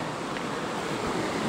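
Kimsey Creek on the Standing Indian loop trail rushes strongly in a steady, broad hiss of flowing water, close and continuous, with a little wind noise on the microphone.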